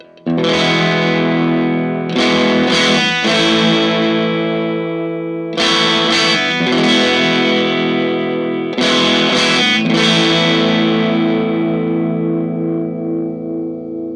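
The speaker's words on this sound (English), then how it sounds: "All right, reverb off." Overdriven electric guitar chords through a Vox AC4 tube amp ring out in three loud strummed bursts, each sustaining long and dry with no reverb tail, no talking.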